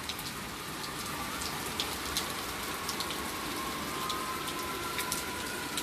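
Steady nighttime rain falling on surfaces, a soft continuous hiss with scattered drops pattering close by, no voices.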